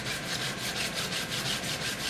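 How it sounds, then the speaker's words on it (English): Continuous rhythmic scuffing, a sanding block lightly rubbed back and forth along the edges of laser-cut clear acrylic in quick even strokes, close and fairly loud, with no talking. "I take a sanding block and I just lightly scuff"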